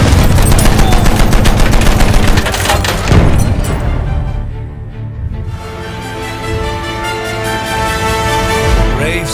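Sustained machine gun fire in Battlefield 1, dense rattling bursts mixed with booming blasts, loud and continuous, easing into a lower rumbling battle din.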